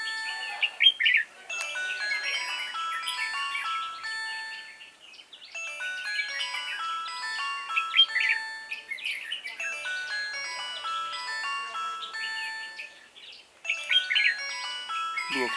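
Red-whiskered bulbul trapped and singing, bright chirping phrases repeating with short pauses in between, fairly close and clear throughout.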